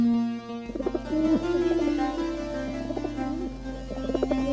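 Five pigeons coo in cold weather, with soft repeated calls heard over a steady low drone and tonal background for the whole stretch.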